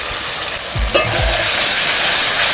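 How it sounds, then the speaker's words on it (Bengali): Masala spice paste sizzling in oil while being stirred for chicken chaap, a steady bright hiss with a few low scraping strokes of the spoon near the start. "মশলাটা আমাদের কষে গেছে ভালো করে, তেল ছেড়ে দিয়েছে।"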